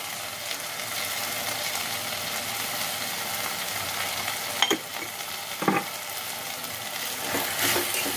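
Paneer, potato and peas gravy being stirred in a hot pan, a steady soft sizzle with a few scraping clinks of the spoon against the pan, close and with no talking.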